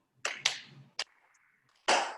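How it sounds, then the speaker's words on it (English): Sharp hand claps in a QiGong and Tai Chi session: a quick pair, then a single clap, then one more after a pause, crisp and close with silence between. "Clap 3 times."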